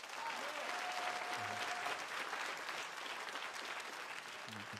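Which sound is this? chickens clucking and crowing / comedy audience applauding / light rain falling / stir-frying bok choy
comedy audience applauding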